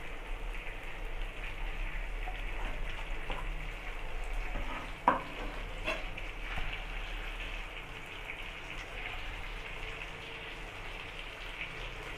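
Tandoori chicken fries in a pan on low heat, giving a continuous, even sizzle and crackle with a single sharp pop partway through and faint stirring sounds.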